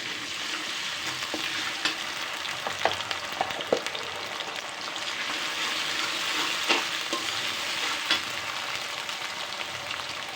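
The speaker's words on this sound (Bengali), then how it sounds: "পেঁয়াজটা একটু ভেজে নিলাম, একটু আদা রসুনের পেস্ট দিয়ে দিব" Onion and ginger-garlic paste frying in a pan, a steady broad sizzle with occasional scrapes and taps of stirring, close and continuous with no talk.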